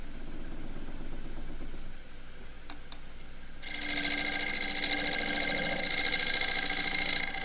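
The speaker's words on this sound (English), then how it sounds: "Still rattling a bit when I turn the speed up" A wood lathe turns a disc vase blank with heavier heartwood on one side, humming steadily before the speed rises, then running with a louder, rattling whir that continues to the end, with no talking.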